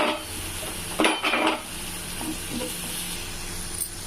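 Green chilli, curry leaves and ginger sautéing in a pan, a low steady sizzle under a brief burst of scraping and clinking utensil stirs near the start, then a quieter sizzle, close and without talk.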